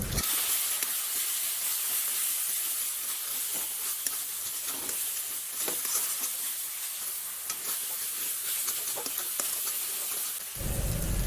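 A paste of ground cumin, coriander and ginger sizzles and hisses loudly in a hot pan, a steady frying sound with occasional stirring scrapes throughout.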